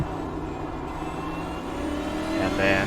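A Next Gen Cup race car in iRacing at Sonoma holds a steady engine drone in second gear, then rises in pitch as it accelerates, loud and close with no talking.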